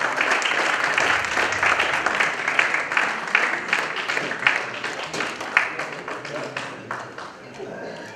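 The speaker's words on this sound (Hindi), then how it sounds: "हेमंत जी के लिए जोरदार ताली और स्वागत हो।" An audience at a medical conference applauds a speaker with loud, dense clapping that gradually thins into scattered claps and fades toward the end.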